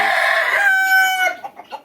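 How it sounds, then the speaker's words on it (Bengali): A tiger-breed rooster at a roadside bird shop in Bakshiganj, Jamalpur gives one loud, drawn-out crow close by, then breaks into a few short, clipped clucks. "এই যে মুরগ আছে"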